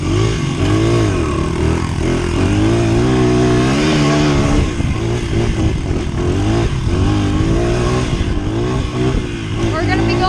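A dirt bike's engine revs and drones steadily during a ride, loud and close with shifting pitch and wind buffeting, while voices talk over it now and then.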